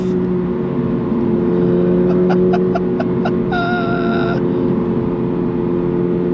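A 2024 Subaru BRZ tS in second gear uphill, its engine droning steadily and winding out under throttle, with a brief run of rhythmic clicks and a short tonal beep partway through.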